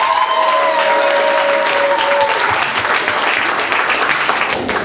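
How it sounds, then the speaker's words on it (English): Theater audience at a Washington Prep Theater show gives loud, sustained applause, a dense wash of clapping filling the room throughout, with a couple of faint tonal whistles early on. "keep your applause going, keep the enthusiasm up"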